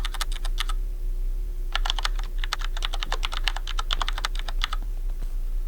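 Fingers type on a computer keyboard in quick bursts of crisp, closely miked key clicks, a short flurry followed by a longer run of rapid keystrokes, with no voices.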